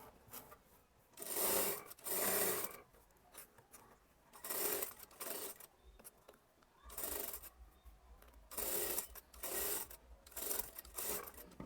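A sewing machine stitches along the princess panel edge of an Anarkali kurti in repeated rasping bursts of about a second each, separated by short pauses, close and fairly loud.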